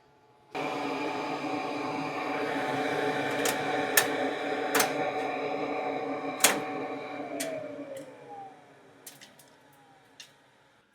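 An M2 laser cutter running its first cut, with a steady mechanical whir and hum broken by sharp clicks and ticks as the head moves, fading out near the end.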